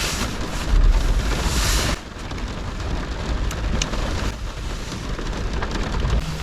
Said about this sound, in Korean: 빗소리 정말 좋다 어 빗소리가 너무 좋습니다 잠시 빗소리 들어보세요.